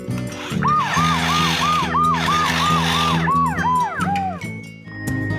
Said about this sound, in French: la sirène des ambulances, ça permet d'arriver à temps à l'hôpital